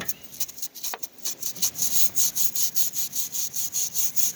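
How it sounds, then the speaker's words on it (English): A small soft-bristle brush scrubs oxidation off the aluminum of a vehicle AC condenser in quick rhythmic back-and-forth strokes, a close, steady scratchy rasp that speeds into an even beat, with no talk. "And I have this little brush, little soft bristle brush. Gonna scrub it a little bit in the area."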